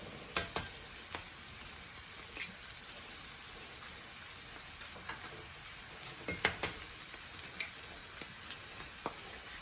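Eggs frying in a pan atop a sweet potato, kale and bacon hash, a soft quiet sizzle broken by scattered crackles and pops, no voices.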